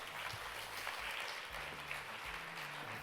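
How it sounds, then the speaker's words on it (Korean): An audience at a Korean conference event claps in a steady patter of applause, moderately distant and continuous, with low stage hum underneath and no speech. "여러분 박수 한번 부탁드리겠습니다"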